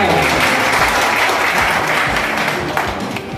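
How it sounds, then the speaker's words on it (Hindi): An audience bursts into loud, sustained applause for a chief minister at a public speech in Deshnok, thick continuous clapping from a large crowd throughout. "ऐसे महान मुख्यमंत्री के लिए मैं समझता हूं दिल से जोरदार तालियां"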